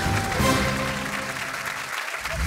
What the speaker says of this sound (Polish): Tak jest! Wielkie brawa!